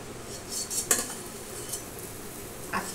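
Cooked parwal with sesame seeds is moved into a dish with a metal utensil, giving soft scraping and a few light clinks against cookware, with faint sizzling beneath.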